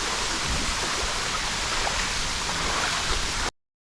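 Gurudugan waterfall in Bali, two falls among large rocky cliffs, pours with a steady, dense rushing roar that stays constant and fairly loud throughout before cutting off abruptly.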